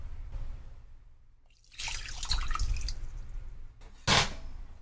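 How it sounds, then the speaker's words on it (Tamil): Water is poured from a cup into a pan of jaggery, a splashing, gurgling pour building in bursts, with a sharper splash near the end, close and moderately quiet. "இப்போ 2 கப் வெல்லத்துக்கு 2 கப்பு தண்ணி ஊற்றிக்கலாம் அதே கப்பில்"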